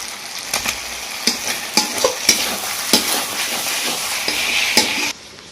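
Chicken fries in masala in a pan, a steady sizzle broken by repeated scraping stirs of a spoon, close up with no voices, before the sound cuts off near the end.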